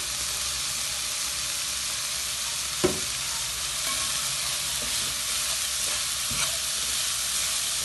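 Carrot and cabbage fry for nasi goreng with a dense, steady hiss of sizzling, and a few light spatula scrapes and clinks surface now and then from a close pan.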